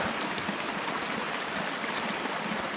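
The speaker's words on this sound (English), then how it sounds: "I'm at the creek level." A creek in the Canadian Rockies near Lake Minnewanka rushes steadily at close range, a continuous broadband babble of water with one brief high chirp partway through and no talking.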